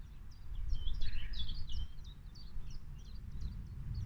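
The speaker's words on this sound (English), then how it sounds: "That little bird you could hear in the background is called a chiff-chaff" Chiffchaff singing in the background, a series of thin, high repeated chirping notes over a low outdoor rumble, fairly faint and distant.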